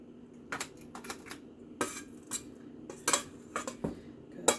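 A large metal ice cream scoop portions meatloaf mixture into a pan with sharp, irregular clinks and scrapes against metal, close and fairly quiet.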